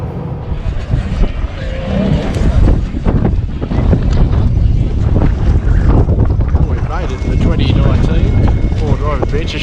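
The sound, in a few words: wind blowing into the microphone outdoors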